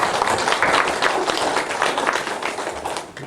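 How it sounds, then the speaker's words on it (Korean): Church members at an Easter service give the choir a round of applause, with many hands clapping in a lively, slightly uneven patter that stays strong and then tapers off near the end. "우리 찬양대를 위해서 하면서 우리 박수 한번 주시죠."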